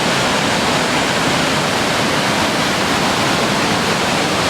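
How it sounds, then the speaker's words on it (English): The powerful Boulder River near Big Timber, Montana, in June rushes over a drop in a loud, continuous, roaring wash of water that stays steady throughout, close by, with no speech. "And here's the river flow."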